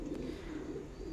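Pigeons cooing on a pigeon farm, a brief soft low coo, fairly faint and close, with no talk.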